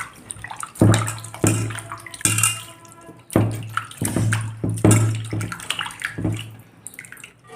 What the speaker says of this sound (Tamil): இப்போ இதில் வேறு தண்ணி ஊற்றி நல்லா கழுவிடுவோம்